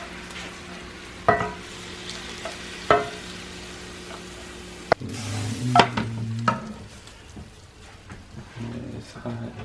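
Jerk chicken fries in a hot, deep pan with a steady sizzle, broken by a few sharp clunks as pieces are moved around, while people talk now and then nearby.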